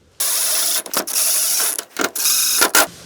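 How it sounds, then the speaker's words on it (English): Garage door roller and its hardware being worked back into the metal track: close, loud mechanical scraping and rattling in three bursts broken by short gaps, with no voices. "Slide back that roller back into the track."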